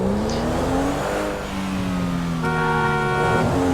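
A car in GTA 5 drives and accelerates, its engine note rising and falling steadily with a second higher revving tone joining near the end, loud and continuous with no talk.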